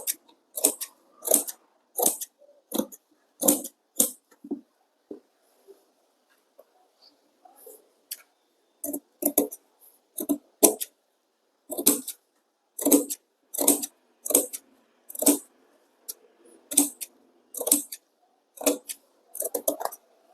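Scissors snip cloth for a shawl collar in repeated quick bursts of crisp, close cuts, each burst a rapid run of snips. Short pauses separate the bursts, and no one speaks.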